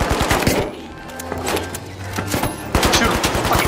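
Rapid automatic gunfire from the video game The Finals comes in loud bursts at the start and again near the end, separated by a quieter stretch with a low electronic hum.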